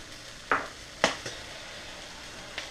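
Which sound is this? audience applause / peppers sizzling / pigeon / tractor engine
peppers sizzling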